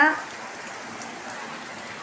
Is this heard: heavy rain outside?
yes